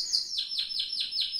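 A songbird delivers the metallic 'cascabel' phrase, a close, clear run of five or six repeated ringing, bell-like notes in quick even rhythm, heard alone without any talk.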